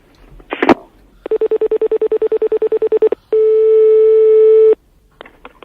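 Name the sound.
telephone dialing and busy signal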